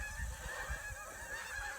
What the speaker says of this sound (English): Geese can't make up their minds which way they're headed.